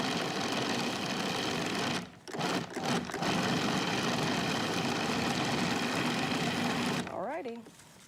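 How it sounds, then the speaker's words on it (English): A food processor pulses to chop chocolate chips in a kitchen, a loud steady whirring motor with brief stops between bursts, and a voice briefly heard near the end. "all I'm doing is pulsing it a little bit to chop those up in there"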